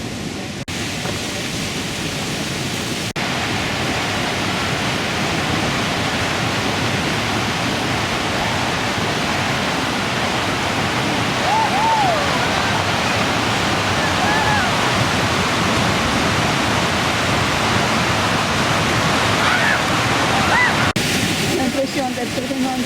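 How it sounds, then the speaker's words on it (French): Rushing water like a Pyrenean mountain torrent roars loudly and steadily from start to finish, with a faint voice or two barely surfacing beneath the constant wash. "L'impression d'être vraiment dans un torrent pyrénéen."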